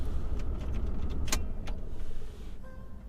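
A car's engine hums steadily at low volume, then cuts out as it is switched off, leaving a quiet, near-silent cabin with faint small clicks afterward.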